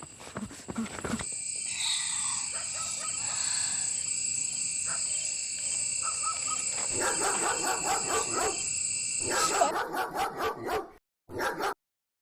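A dog barks repeatedly over steady insect chirring and a high droning tone, with the barks clustering into quicker bursts toward the end.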